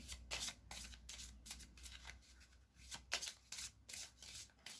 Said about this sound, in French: Elles veulent pas venir les cartes